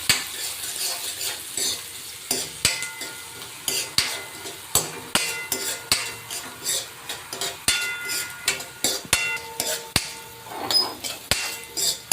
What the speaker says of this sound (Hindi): ये मैंने प्याज डाल दिया है और मिर्ची डाल दी है